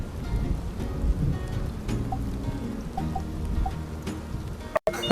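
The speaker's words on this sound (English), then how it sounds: "This is your first rain in Sandrock, isn't it?" Rainfall in the video game My Time at Sandrock, a steady broadband hiss of drops pattering continuously on surfaces, with a few faint soft tones drifting through and no talking.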